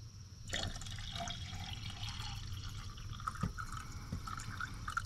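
Water pours into a camping pot and spills over the rim outdoors, producing soft splashes and trickles with a few sharper drips, faint and close.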